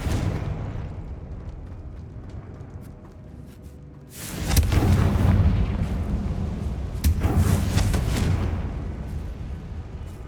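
Confringo spell explosions in the video game Hogwarts Legacy, first a quieter rumbling stretch, then two loud booming blasts with long crackling tails about three seconds apart.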